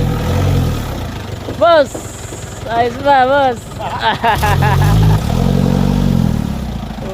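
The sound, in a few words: Isuzu Elf truck engine running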